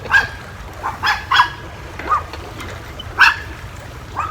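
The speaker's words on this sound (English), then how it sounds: "Crazy dogs at the office." Three or four dogs bark and yip at a marina office, sharp scattered barks at a moderate distance over steady outdoor background noise.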